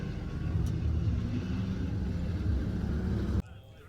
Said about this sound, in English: we have the Miata here walking up the corkscrew